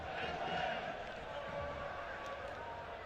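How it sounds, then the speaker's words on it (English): Football crowd at an FC Tulsa versus Phoenix Rising match, a continuous distant stadium murmur with scattered shouts beneath a commentator's voice. "Crowd staying with it here."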